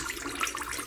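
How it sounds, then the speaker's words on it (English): Water runs steadily from a Kohler Willamette touchless kitchen faucet during an installation test, a close, continuous hiss and splash into the sink. "At this point, do a proper test. Turn on the water first."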